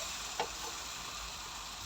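Eggs and tomatoes fry in a pan with a steady, close sizzle that holds for the whole moment, broken once early on by a light tick.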